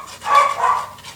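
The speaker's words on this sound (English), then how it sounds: "Those dogs." Dogs bark somewhere nearby, a short burst of one or two muffled barks heard from a room away, moderately loud and quickly fading.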